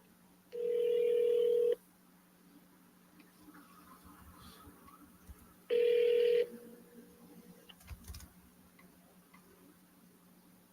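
A telephone ringback tone sounds twice, each ring a steady loud buzz lasting about a second, separated by a long quiet gap with faint room noise, no one talking.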